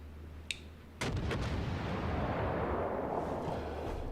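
Cruiser gunfire in a naval battle video game: a sharp crack, then at one second a heavy salvo of booming shots erupts and rolls into a sustained, loud rumble of artillery and explosions.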